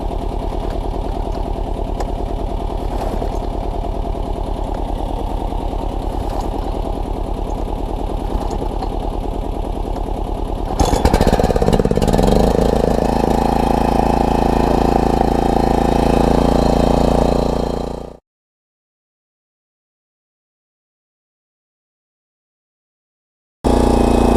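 A small gas-powered log splitter engine runs steadily in a cold, snowy setting, roughening and surging near the end before sputtering out and stopping, followed by silence.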